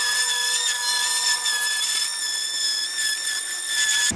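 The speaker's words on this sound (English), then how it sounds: "Now on to, and you guessed it, a buttload of sanding" A steady, high-pitched whine of a power sander on a wooden cheeseboard runs without a break, holding a constant tone.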